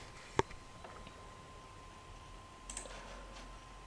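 A single sharp computer mouse click lands early in an otherwise quiet room, followed by a faint, brief rustle a few seconds later.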